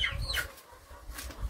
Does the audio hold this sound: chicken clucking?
yes